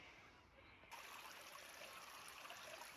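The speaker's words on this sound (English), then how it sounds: "Just a beautiful trickling stream." A small forest stream trickles steadily near ruins in a wooded area, a soft continuous burble and splash that holds at an even level after a slight swell near the start, with no voices.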